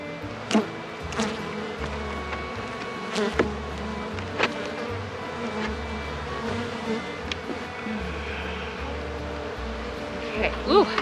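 Honeybees hum around an open hive after winter, a steady close buzz with individual bees zipping past the microphone, under a faint low background rumble.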